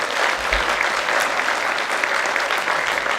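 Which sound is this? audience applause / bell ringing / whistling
audience applause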